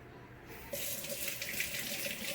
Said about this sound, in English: You can rinse off your hands if you want, if that's bugging you.